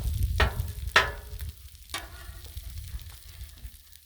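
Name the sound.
breakfast sandwich frying on Blackstone griddle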